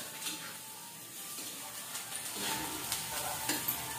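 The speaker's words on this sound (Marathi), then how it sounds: "तेल टाकून भाजली गवारी" Guar beans and onion roast in oil in a pan in a home kitchen, giving a close, steady hissing sizzle with light stirring clinks.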